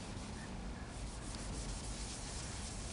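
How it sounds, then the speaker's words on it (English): Paint on a 1969 Camaro being scuffed by hand: a steady, dense rubbing and sanding hiss that runs continuously for a few seconds, close and even in level, with no voices. "I'm going to try to scuff this."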